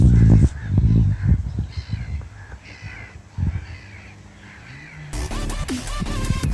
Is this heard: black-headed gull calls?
yes